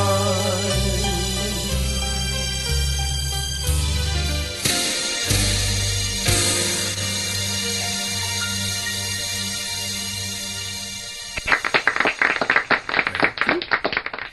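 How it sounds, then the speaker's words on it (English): After a live studio song fades out on sustained chords, recorded canned applause bursts in loud and close, a dense burst of clapping lasting the final few seconds. "We didn't have a crowd for you, so I have canned applause."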